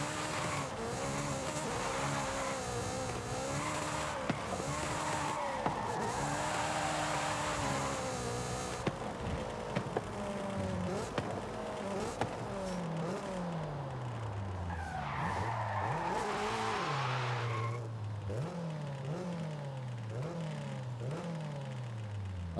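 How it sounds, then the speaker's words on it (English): Car drifting in the video game Forza Horizon: a revving engine rises and falls in repeated sweeps while tyres skid and squeal almost continuously, loud and close, with no talk. "Drifting in Forza Horizon."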